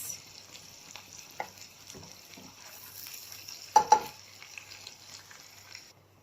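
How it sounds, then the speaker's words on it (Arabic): Butter with a spoonful of oil fries in a pan for taro, giving a steady soft sizzle with a few brief stirring knocks near the middle, close by and with no talking. "دي بتتحمر بقى يا بنات، بس لازم نحط معلقه الزيت دي عشان الزبده لوحدها زي ما بقول لكم بتتحرق"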